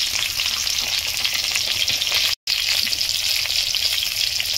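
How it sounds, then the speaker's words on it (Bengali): Boiled lentils go into a hot pan of sizzling tempering spices with fried fish head, a loud, steady frying sizzle running throughout, broken by one very brief silent gap near the middle. "এখন দিয়ে দেবো এর মধ্যে সিদ্ধ করে রাখা ডাল।"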